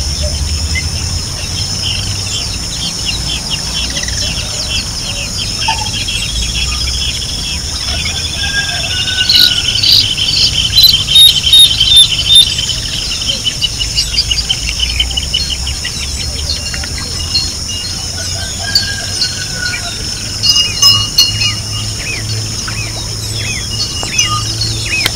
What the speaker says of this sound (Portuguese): Na linda aurora matinal, muitas aves cantam.